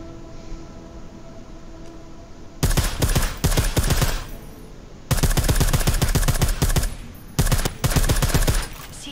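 Sustained bursts of suppressed automatic gunfire in Deus Ex: Mankind Divided, rapid clicking shots in three long volleys broken by short pauses, close and steady after a quiet opening.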